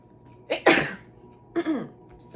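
A single sharp sneeze bursts out near the mic, followed by a second, softer sneeze or throat sound a moment later in an otherwise quiet room.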